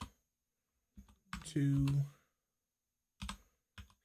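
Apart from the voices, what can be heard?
typing on a computer keyboard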